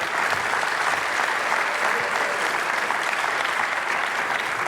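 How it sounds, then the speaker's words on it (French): Sustained audience applause at a live comedy show in the Palais des Congrès in Brazzaville, a steady wash of clapping from a large crowd that holds evenly throughout, with no talking. "Applaudissez d'abord pour lui"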